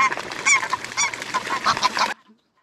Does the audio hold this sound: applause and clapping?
no